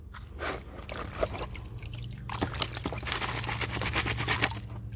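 Shallow water at a North Carolina gold prospecting dig sloshes and drips as a small catfish is moved into cleaner water, with irregular close splashes and trickles over a low steady hum.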